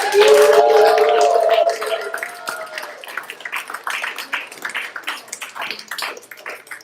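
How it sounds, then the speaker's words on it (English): A school audience at a student performance applauds warmly, a dense wash of clapping that starts loud over a sustained sung note and tapers into scattered, thinning claps. "Can we give one more round of applause for Persephone?"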